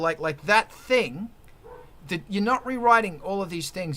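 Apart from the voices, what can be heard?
dogs barking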